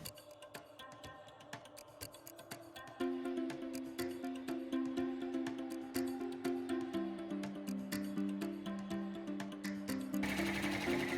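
An embroidery machine satin stitches applique letters trimmed from fabric for a garden flag. Its needle chatters in a fast, steady, close rhythm that turns louder and denser after a few seconds and runs on without talk.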